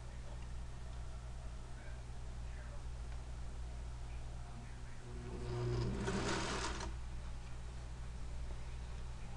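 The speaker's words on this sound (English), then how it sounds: "keep your needle down so you don't move positions and where you're stitching." A sewing machine stitches the upper back and peplum seam of a jacket, a brief steady whir swelling for about a second near the middle over a constant low hum.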